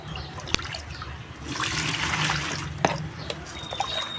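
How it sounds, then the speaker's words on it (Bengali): Water scooped from a bucket with a mug and poured, a soft splashing trickle that swells in the middle and is dotted with light knocks of the mug. "বালতিতে করে জল নিয়ে নিচ্ছি আমি।"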